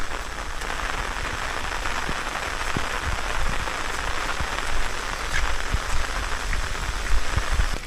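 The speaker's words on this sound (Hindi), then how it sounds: "अभी तो बारिश और तेज हो चुकी है" Heavy rain pouring steadily, a dense hiss with scattered sharper drops pattering on surfaces nearby, no voices.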